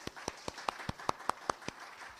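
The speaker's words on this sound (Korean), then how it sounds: "박수로 한번 환영하는" Sparse, evenly spaced claps of welcome from a small church lecture audience, about ten distinct hand claps at a steady rhythm, fairly faint and close.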